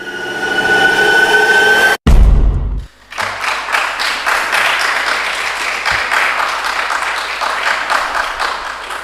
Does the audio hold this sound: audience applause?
yes